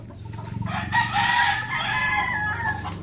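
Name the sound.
chickens, rooster crowing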